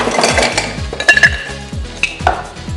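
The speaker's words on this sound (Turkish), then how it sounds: "Shaker'ımıza gene bir miktar buz ekliyoruz." Ice tumbles into a cocktail shaker for a White Russian, giving a quick run of sharp, close clinks and rattles over a few seconds.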